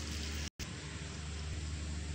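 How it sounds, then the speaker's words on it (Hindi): Steady rain pours over Lahore during a storm, a dense, even hiss filling the whole stretch with one brief dropout near the start. "काफ़ी दिन के बाद बारिश माशाल्लाह बारिश आई है"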